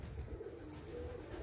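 Pigeons coo faintly on a Lahore rooftop, a low, steady murmur of soft calls running through the whole moment amid light background noise, with no one speaking.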